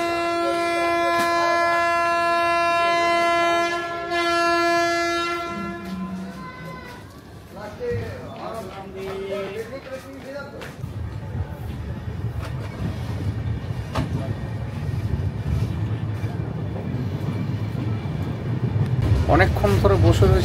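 Tamralipta Express train running from Howrah to Digha: a steady rolling rumble and rattle from inside the coach with a horn sounding at the start. Passengers talk throughout, over the continuous low noise of the moving train.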